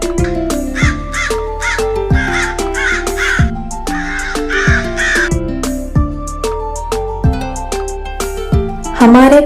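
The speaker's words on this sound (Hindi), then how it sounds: "दो कौवे गमले के चारों ओर चुआ चुआ खेल रहे हैं।" Two crows playing around a flower pot give loud, harsh caws close by, repeated calls in quick bursts that overlap one another throughout.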